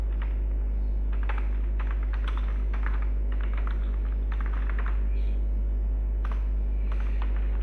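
Irregular clicks of a computer keyboard as code is typed into a WordPress theme file, quiet clusters of keystrokes with short pauses over a steady low electrical hum.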